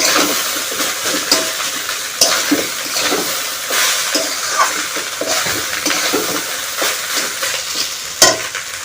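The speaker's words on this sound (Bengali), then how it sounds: "সবজিটা ভাজা হয়ে গেছে আমি কিন্তু এখন ভাতটাও দিয়ে দিলাম" Rice and vegetables stir-fried in a pan, a steady close sizzle broken by repeated scraping and stirring strokes of a spoon against the metal, with a sharp clatter near the end and no talking.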